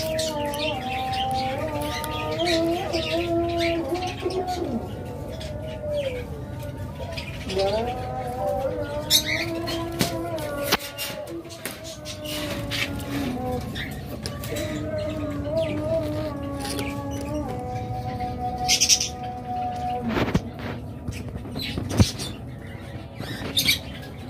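Pet birds, doves and budgerigars, call continuously in a busy chorus of chirps, warbles and coos, fairly close and steady throughout.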